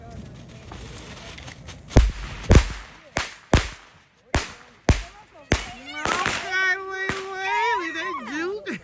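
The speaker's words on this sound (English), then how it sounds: "There was somebody out there lighting the fireworks." Fireworks set off outdoors crack in a string of sharp, loud bangs at irregular intervals, with children's voices talking and shouting between and over the blasts.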